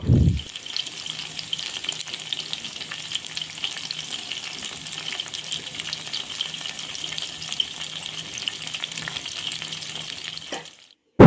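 Small fish deep-frying in oil over a low flame give off a steady, even sizzle and crackle that runs unbroken for about ten seconds, close up with no voices, before cutting off abruptly.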